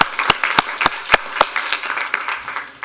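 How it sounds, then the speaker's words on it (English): A small group at a transportation commission meeting applauds, with a few sharp, loud claps standing out over softer scattered clapping. "And if I may give Patricia a round of applause."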